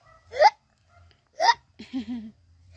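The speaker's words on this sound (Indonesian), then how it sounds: "nanti cegukannya begini" Two sharp, close hiccup-like bursts about a second apart, each a short voiced catch, followed by a brief vocal sound in a quiet indoor setting.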